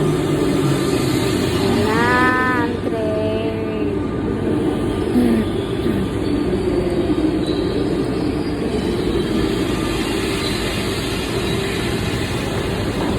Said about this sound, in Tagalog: Yan na yung train. Parating na siya.